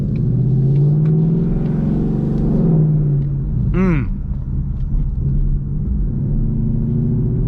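A 2018 Ford Mustang GT with a new exhaust roars at high revs, a loud deep rumble that rises and falls with a quick throttle blip midway, close and continuous.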